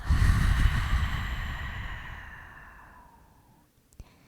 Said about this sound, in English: Take a big deep breath in through your nose. Open the mouth, exhale.